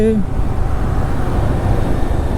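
Royal Enfield Guerrilla 450 motorcycle with its 452 cc engine cruising in sixth gear, a steady loud road and wind roar filling the short stretch, with a brief voice at the very start.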